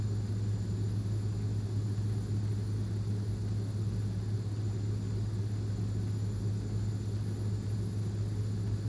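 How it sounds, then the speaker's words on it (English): Twin propeller engines of a King Air B200 turboprop in a flight simulator, props pulled back to 1800 RPM, hold a steady, even drone with a low tonal hum throughout, no voices. "That should bring the props back to 1800 RPM"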